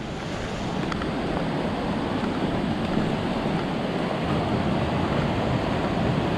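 A waterfall across a creek gives a steady, dense rush of falling water that sounds distant and fills the whole stretch evenly. Wind buffets the microphone at the same time, and no one speaks.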